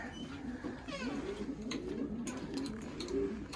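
Racing pigeons in a loft coo in soft, repeated low throaty phrases, several birds nearby, with scattered light clicks and rustles in the background.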